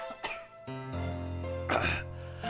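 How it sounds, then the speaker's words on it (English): A person clears their throat several times in quick, rough bursts, close and fairly loud, with short pauses between the rasping efforts. "I fairly regularly go and clear my throat"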